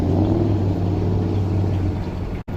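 A 1967 Chevrolet Chevelle runs an SCCA autocross course, its engine a loud, steady, deep rumble that holds nearly unbroken before cutting out briefly just at the end.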